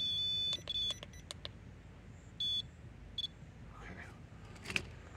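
A few sharp electronic beeps sound in quick succession, a longer one following after a pause, with faint clicks and background noise between them.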